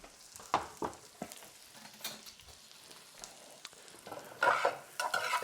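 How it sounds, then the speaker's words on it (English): Onions soften in a hot pan with a soft sizzle, and irregular scraping stir strokes grow louder toward the end. "I'm softening the onions as we speak."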